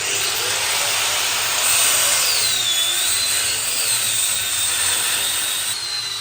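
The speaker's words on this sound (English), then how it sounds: "So we're going to chop them off because the nuts won't undo" An angle grinder cuts through rotted, seized exhaust mounts on a car in a workshop, giving a loud, continuous high whine with slight pitch wavers that runs steadily throughout, with no talking.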